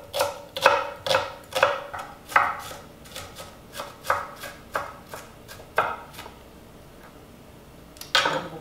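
A knife chops onions into small pieces for pierogi filling, a run of crisp, close, evenly spaced thuds on a board with a brief pause before a final chop.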